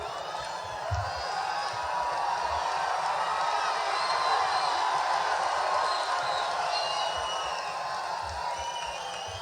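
A large political rally crowd fills a convention center room with a dense, continuous roar of chatter and scattered cheers, steady and broad throughout, with voices mixed into the din.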